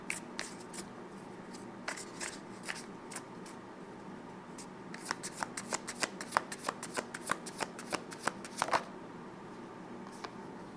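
An oracle card deck is shuffled by hand close up, with a long run of soft, rapid flicking card snaps that grow busier midway before tapering off, with no talking.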